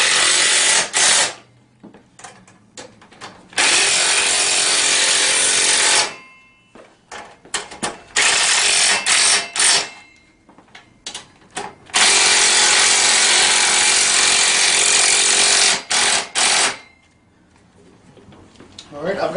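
A power drill drives bolts tight on a Tao Tao Mini 110 ATV in several loud, sustained whirring bursts separated by short gaps, with faint clicks and handling noise between them.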